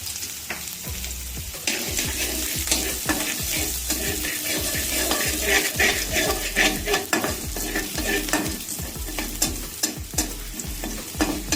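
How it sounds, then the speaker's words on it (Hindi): Chopped garlic frying in oil in a pan while making pineapple chicken, a steady loud sizzle with frequent scraping stirring strokes throughout, no talking. "अब उसी ऑयल में ये लहसुन चॉप किया हुआ थोड़ा सा ये शामिल करूँगा।"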